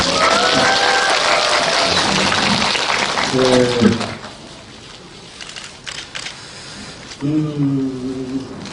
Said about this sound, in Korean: 또 이렇게 한번 박수 한번